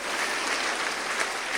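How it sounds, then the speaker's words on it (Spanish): A church congregation claps together in steady, dense applause that fills the short moment without any talk. "Dale un aplauso al Señor porque salvó tu vida también."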